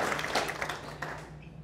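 A short round of applause from a small business networking audience at a chamber of commerce gathering, a brisk flurry of clapping that thins out and fades toward the end.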